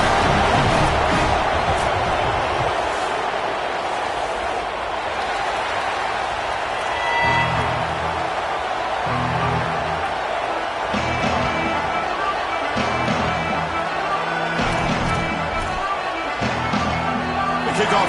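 Roaring stadium crowd at a college football playoff game, a steady loud wash of cheering and chatter with bursts of noise, broadcast commentary talking over it throughout.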